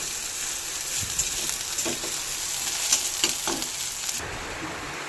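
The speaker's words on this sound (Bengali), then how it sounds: "পেঁয়াজটা ভাজা ভাজা হয়ে আসলে" Chopped onions sizzle and crackle steadily as they fry in a pan for dal, a close, continuous hiss with a few louder spatters from stirring.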